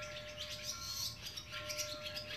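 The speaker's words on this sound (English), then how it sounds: "Just love these little little birds." Small birds chirp and tweet in quick, faint bursts against a quiet morning outdoor background on Star Island, with a steady thin tone running underneath.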